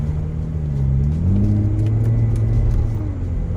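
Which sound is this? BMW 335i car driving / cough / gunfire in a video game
BMW 335i car driving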